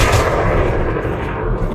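Dense, continuous weapon fire and explosive bursts from a video game with incendiary frag grenades, loud and close, filling the short stretch with rumbling, overlapping blasts and no voice.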